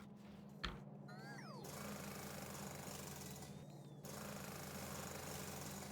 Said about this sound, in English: Oh, I can jackhammer concrete.